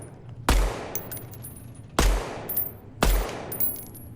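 Three heavy gunshots on a firing range in Deadrop, each a sharp close blast with a long decaying tail, spaced about a second apart, with faint debris clatter after the shots.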